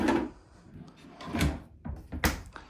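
A drawer in a 2025 Columbus 383RLH RV kitchen slides open and shut a few times, with wooden scrapes and a firm knock at the end, close by and without talk.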